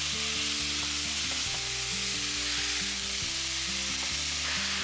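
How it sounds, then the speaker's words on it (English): Ground beef frying over medium-high heat in a large skillet gives a steady, close sizzle with no pauses, while low tonal hum runs underneath throughout. "I'm also heating up this large skillet to about medium high so that we can cook our ground beef."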